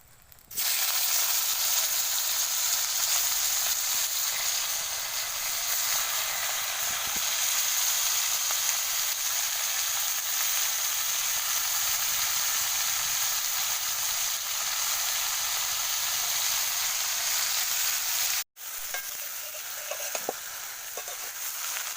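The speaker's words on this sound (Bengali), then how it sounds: "আমরা এখন শাপলাটা ভেজে নেবো" Water lily (shapla) stems frying in oil in a pan, giving a loud, dense, continuous sizzle and hiss up close. The frying breaks off briefly near the end, then resumes more quietly.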